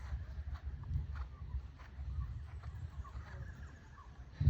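A horse moving under a rider during a flying-change training session in an arena, with a steady low rumble of hoofbeats and soft scuffing that continues evenly throughout, moderately close.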